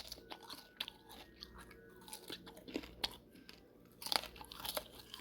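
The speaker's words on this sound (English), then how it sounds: "give a listen to see how I crunch on this and see how crispy it is" Crispy griddle-cooked bacon crunches between the teeth in a series of close, sharp bites and chewing crackles, quiet overall with no talk.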